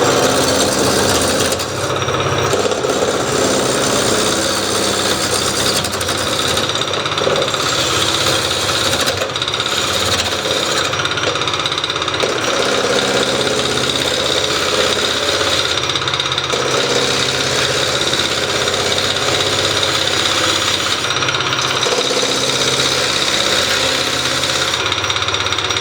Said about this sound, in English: So I've got a spindle gouge here, a large one, so we'll stand to one side and start at this end.